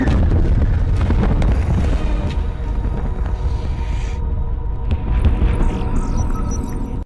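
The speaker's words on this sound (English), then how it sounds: "They torpedo that facility." Heavy, continuous rumbling booms and a deep throbbing hum as torpedoes strike a facility in Star Trek Discovery, loud and dense throughout with a sustained sci-fi drone underneath.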